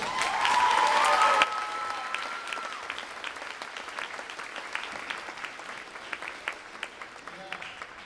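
An audience at a spring school concert applauds, a loud swell of clapping that fades into scattered claps, with a voice speaking over it.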